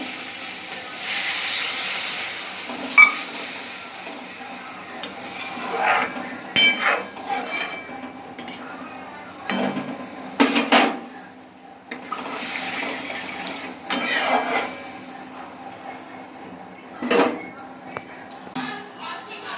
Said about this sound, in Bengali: পেঁয়াজটা একটু গলিয়ে দিচ্ছি। এবার জল ঢেলে নেব।